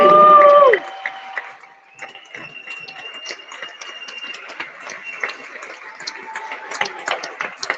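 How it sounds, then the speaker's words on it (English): Crowd at a political rally for Kari Lake clapping and cheering, a sustained spread of scattered claps and distant whoops that follows a short burst of amplified voice at the start. "Let's give her a huge round of applause."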